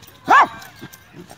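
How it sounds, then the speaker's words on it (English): Small dog giving a single short, high yip-like bark, close and brief, followed by faint quiet sounds. "Little dog."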